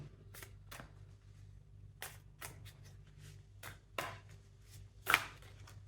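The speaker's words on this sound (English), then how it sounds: "I'm just going to shuffle like that in order to just refresh the energy of the deck." A deck of tarot cards is shuffled by hand, giving soft irregular riffles and taps spread across a quiet room, with a sharper snap near the end.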